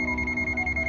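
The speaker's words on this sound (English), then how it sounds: "NCV non-contact induction buzzer sound when voltage is sensed." Continuous high-pitched electronic buzzer tone from an ANENG AN9002 multimeter's non-contact voltage detection, steady and loud with a slight pulsing throughout, no speech.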